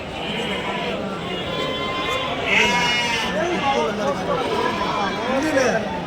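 Rams and sheep bleat repeatedly at a busy outdoor livestock market in Annamayya district, Andhra Pradesh, overlapping calls rising and falling over a steady crowd hubbub with people talking throughout.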